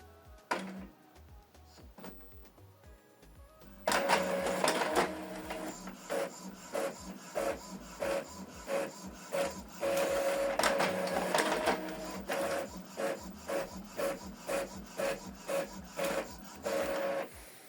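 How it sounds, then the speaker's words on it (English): An Epson EcoTank ET-2862 inkjet printer whirs and clicks, then runs a long black-and-white printing cycle of rhythmic shuttling passes and mechanical rattles, close and continuous. "Printing is completed."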